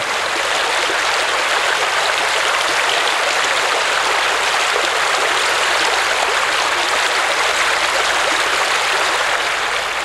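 A mountain torrent rushes along the valley floor beside a deposit beach at the end of its course, a steady, loud broadband roar of flowing water that stays constant throughout with no voices.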